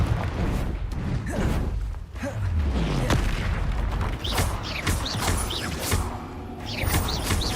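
Confringo fire spells bursting in Hogwarts Legacy, repeated booming impacts and crashes mixed with clanking, creaking mechanical noise, loud and busy throughout.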